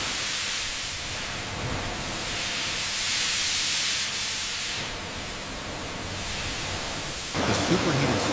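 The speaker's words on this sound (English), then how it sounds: "Superheated steam ensures rapid, uniform blanching, preserving the water spinach's vibrant color and nutrients." Superheated steam blanches water spinach inside a long processing-plant tunnel, giving a loud continuous broadband hiss that swells and eases slightly, with a rougher burst near the end.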